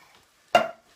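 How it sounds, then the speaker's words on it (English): Canned chopped tomatoes are tipped from the tin into a chilli mix for a BBQ burrito filling, making a single brief, close wet slop and clatter with no talk around it. "I'm going to tip them straight in to that mix."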